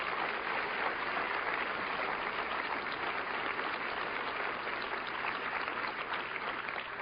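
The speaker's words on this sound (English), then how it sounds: "they deserve a round of applause for their outstanding work" Sustained applause from an audience at a political speech, a dense, steady wash of clapping hands lasting throughout with no one speaking.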